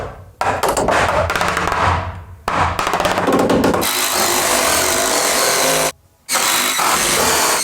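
Power saw cutting lumber for support jacks in an underground room of an old mansion under restoration, loud close bursts of whining cutting with brief pauses between cuts, no talk.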